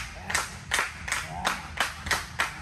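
Crowd at a wrestling match claps in a steady rhythm, about seven evenly spaced sharp bursts over a low murmur of arena noise.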